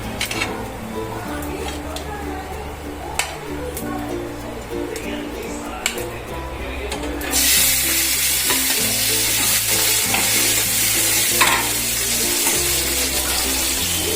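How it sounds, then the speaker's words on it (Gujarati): Mustard seeds, cumin and asafoetida hit hot oil and sizzle loudly, the frying hiss jumping up sharply partway through and then holding steady, close by under a woman's speech. "તો આપણે એમાં રાઈ, જીરું અને એક નાની ચમચી હિંગ નાખી દઈશું."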